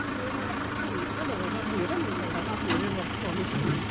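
A water truck's engine idles in a steady low rumble with a faint rattle, while people talk over it throughout.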